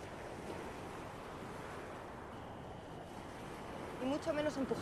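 Sea waves wash and break in a steady, continuous surf roar with wind across the water, holding an even level throughout before brief tonal sounds rise near the end.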